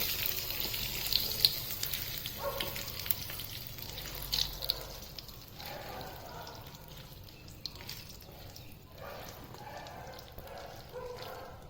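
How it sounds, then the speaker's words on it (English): Curry leaves sizzle in hot oil in a shallow pan while making pongalam, a steady crackling fry with bursts of spitting, close and moderately loud, with faint background noise. "And this is the curry leaves on the hot oil."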